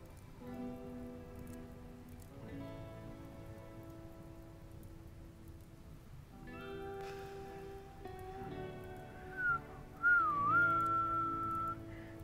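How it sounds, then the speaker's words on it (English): Steady rain pattering in a video game, a continuous soft wash that runs throughout beneath tonal game music, with a brief whistling melody rising near the end. "Never mind, it's raining."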